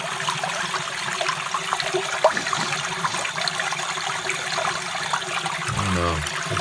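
A basement sump pump discharges water through a hose during flooding, giving a steady rushing, splashing pour with a low rumbling gurgle that swells near the end.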